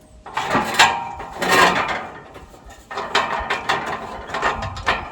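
A wheel on a scaffold tower slots into place as its catch is pulled back with a wire loop: bursts of close metallic clicking and ratcheting, rattling scrapes and a clunk, in two separate spells with a short pause between.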